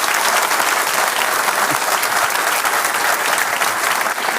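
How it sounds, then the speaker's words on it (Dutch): A lecture audience gives a loud, sustained round of applause for two speakers. The clapping is dense and continuous, with faint crowd murmur beneath it, and it dips briefly only at the very end. "Mag ik een groot applaus voor Anna Strolenberg en Arendtje Boekenstein."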